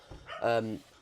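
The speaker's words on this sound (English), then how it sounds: "if you can hear my dog barking" A single short dog bark sounds indoors, brief and moderately faint.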